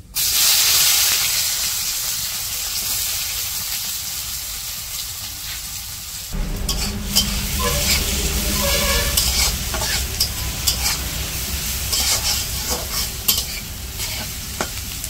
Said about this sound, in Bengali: পেঁয়াজ একটু ভাজা ভাজা হয়ে গেছে